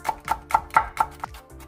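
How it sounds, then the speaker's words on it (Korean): A knife finely chops two halved Cheongyang green chili peppers on a cutting board for perilla leaf kimchi, with six crisp, evenly spaced close taps and no talking. "청양고추 2개를 반으로 갈라 잘게 다져주세요."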